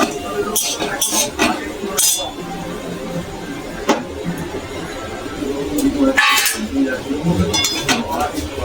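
Crab curry cooked with coconut and potato is poured from a pot into a metal plate. Intermittent metallic clinks and scrapes of utensil on pot and plate sound close by, over a wet, soft background, with no talk.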